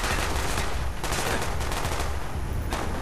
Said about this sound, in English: so I'm shooting the enemies